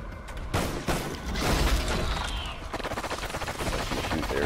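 Rapid automatic fire from the MR28 rifle in Call of Duty Ghosts Extinction during a fight against a Breeder, with dense bursts of shots and mechanical clatter, loud and close throughout.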